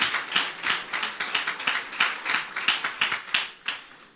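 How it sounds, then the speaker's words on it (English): Audience applause at a Free Republic of Liberland ceremony in Novi Sad, heard as a crisp, fairly close run of rhythmic hand claps in a regular pulse, without talk over it. "Give us the biggest and loudest round of applause, please"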